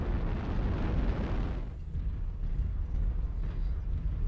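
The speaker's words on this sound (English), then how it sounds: "Airstrike online." Airstrike explosions in the MechWarrior Online video game, a loud rumbling blast that fills the first second and a half, then fades into a low sustained roar with smaller bursts.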